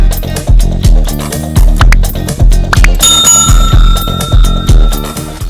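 A bright notification bell rings out over steady background music, its chime sustaining for the last couple of seconds.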